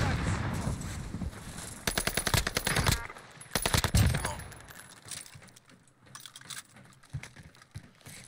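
Video game gunfire: rapid automatic bursts crackling in clusters, loud and near, thinning out into scattered fainter shots and clicks toward the end, with voices talking over it.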